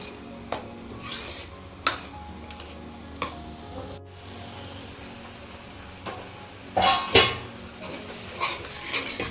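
A utensil scrapes and knocks against a pan while tomatoes and onions roast for baingan bharta, with irregular clinks and stirring strokes over a low steady sizzle, close and moderately loud.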